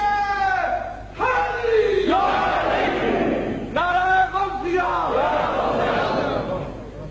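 At a Sunni conference a large crowd repeatedly shouts the slogan Nara-e-Tahqeeq in loud, rhythmic call-and-response bursts, led by a single voice.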